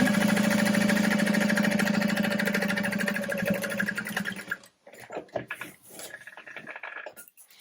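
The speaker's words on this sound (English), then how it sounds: "I'm just going to top stitch that right now, really quick" A sewing machine topstitches along the edge of a tote bag in a fast, steady mechanical run that slows and then stops, followed by soft fabric handling.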